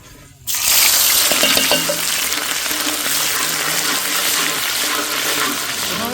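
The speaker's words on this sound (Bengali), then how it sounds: "নিয়ে নিয়েছি শুকনো লঙ্কা তেজপাতা কালো জিরা যাও বন্ধু যাও এখন দিয়ে দিচ্ছি পেঁয়াজ কুচি" Chopped onion dropped into hot oil with dried red chili, bay leaf and black cumin for a dal tempering, bursting into a loud sudden sizzle that settles into a steady close hiss.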